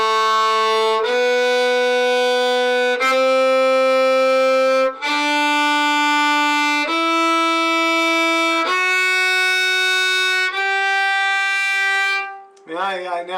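Bowed string instrument played with too much bow pressure, a series of sustained notes stepping gradually upward, each rich and buzzy with strong overtones, loud and close, ending in a brief scratchy burst.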